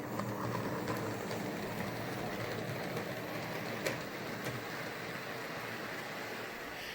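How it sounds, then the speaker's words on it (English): A model train runs around a layout track, giving a steady close rumble with light clicks of wheels over rail joints and one sharper tick partway through, with no talk. "I can park a train there and still use my outer loop power to bring a train round from anywhere else in the layout into this siding."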